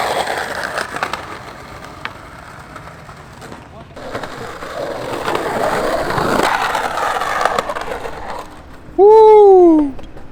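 Skateboard wheels and trucks grinding across a wooden IKEA skatepark, a rough rolling scrape that builds and swells, followed by an excited shout near the end.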